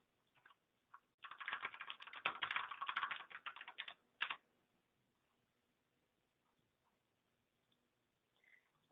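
Fast typing on a computer keyboard, a dense run of key clicks lasting about three seconds, followed by a few isolated keystrokes and a near-silent pause.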